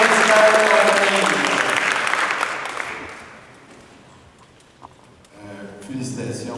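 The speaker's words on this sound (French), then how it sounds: "On les applaudit, le projet de Pilat" Applause from an audience at a hackathon project presentation in Quebec City, loud and sustained at first, then fading, with a voice speaking over it as it resumes near the end.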